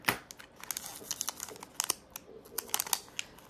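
Nail strip package being opened and cut, with close, quiet crinkling of plastic and sharp snips and ticks scattered throughout.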